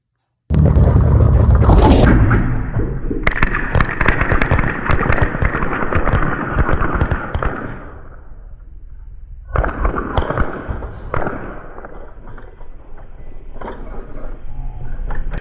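A .22 rifle fired at a shooting prop during a shooting match: a dense, loud barrage of sharp cracks with metallic ringing, a short lull partway through, then another rapid string of shots.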